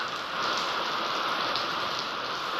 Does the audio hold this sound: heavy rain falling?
yes